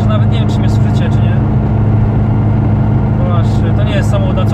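A loud, constant engine roar fills a car cabin during a track day, with voices talking over the droning noise.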